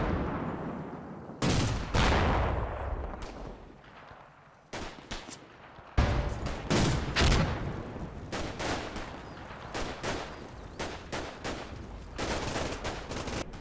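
Gunfire in the WWII Italy wargame Combat Mission Fortress Italy, a dense firefight of rifle and machine-gun bursts with sharp cracks scattered throughout, loud and continuous after a brief lull.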